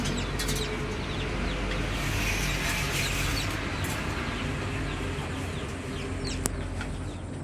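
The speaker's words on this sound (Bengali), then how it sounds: "এগুলো হচ্ছে যে দেশি কবুতর, যাকে বলে জালালি কবুতর।" Local Jalali pigeons, a desi breed, being released into a new coop, with steady fowl-like cooing and fluttering close by over a dense, continuous backdrop of bird noise.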